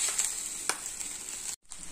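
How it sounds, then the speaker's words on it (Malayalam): Restaurant-style egg fried rice is stirred in a hot pan, a constant close hiss of sizzling with a light scrape of stirring and a brief gap near the end. "എല്ലാ ഭാഗം ഒരേ ഷെയ്ഡ് വരുന്ന വിധത്തിൽ നമുക്കിതൊന്ന് മിക്സ് ചെയ്തെടുക്കാം"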